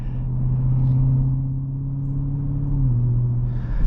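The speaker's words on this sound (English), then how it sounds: "The supercharger whine just burbles." Supercharged engine of a 2025 Ford F-150 Raptor R drones steadily with a low whine and burbling rumble, holding pitch before dipping slightly near the end, close and continuous with no talking.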